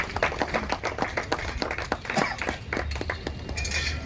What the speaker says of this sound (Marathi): मी त्यांचंही एकदा आपण सर्व टाळ्या वाजून कौतुक करूया.